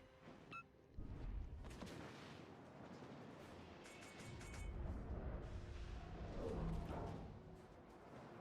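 Nebelwerfer rocket artillery launches in a naval combat video game, a dense run of booming, rumbling blasts with crackling high bursts layered over a continuous low roar across the whole stretch.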